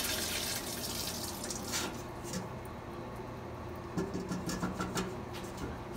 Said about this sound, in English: So I'm going to pour the water out onto the 200.